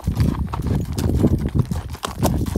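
Tired horses' hooves clip-clopping on a stony descent near the end of an endurance ride, a brisk uneven rhythm of close, loud hoofbeats on hard ground.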